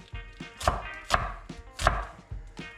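A knife chops an onion on a cutting board for an Italian omelette, several sharp, evenly spaced knocks close by, with no talking.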